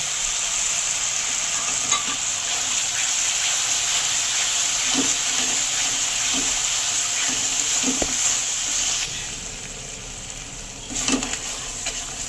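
Ground spice paste frying in oil in a pan for a soybean curry gives a steady, close sizzle throughout, with occasional scraping and stirring knocks and no one talking.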